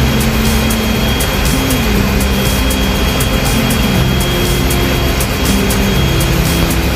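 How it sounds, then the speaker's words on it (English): A ship's auxiliary boiler firing up, a loud continuous roar with a steady mechanical drone and rapid regular ticking throughout, with no voices. "we are ready to start our auxiliary boiler."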